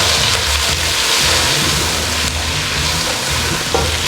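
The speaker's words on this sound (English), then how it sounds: "You can see we just want the onions sauteed." Onions sauté in a pan for a homestyle lamb chop karra masala curry, giving a steady, close, loud sizzle with a faint rattle of stirring underneath.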